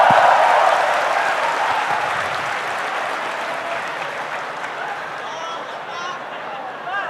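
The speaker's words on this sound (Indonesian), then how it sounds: "tepuk tangan teman-teman" Audience applause at an Islamic lecture, loud dense clapping from a large crowd that slowly fades over several seconds.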